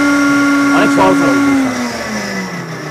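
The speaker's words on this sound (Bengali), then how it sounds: "দেখেন এই যে প্রফেশনাল ব্লেন্ডার মেশিন NYB006C" A Niyama NYB006C professional commercial blender running, a strong motor whine that rises and then slowly winds down, close and loud.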